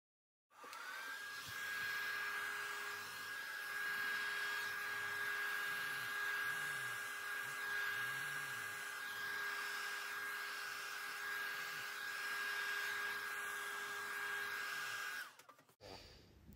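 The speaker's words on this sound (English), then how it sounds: "I'm just going to blow it out with my hairdryer just to cover the full canvas." A hair dryer blows steadily on acrylic fluid paint poured over a canvas, a loud continuous whirring hiss with a high steady whine that runs unbroken for about fifteen seconds before cutting off.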